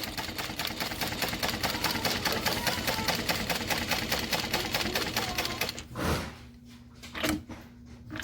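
A sewing machine runs a continuous top stitch, its rapid, even mechanical chatter loud and close for about six seconds before stopping, followed by a couple of soft handling clunks.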